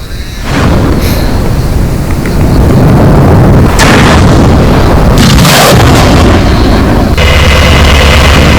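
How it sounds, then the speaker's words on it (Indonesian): Loud, continuous roaring blasts with repeated whooshing bursts from a Russian BM-27 multiple rocket launcher firing a rapid salvo of heavy rockets, sustained and harsh throughout. "Kendaraan tempur Rusia melepaskan serangan tembakan roket peluncur ganda BM-27"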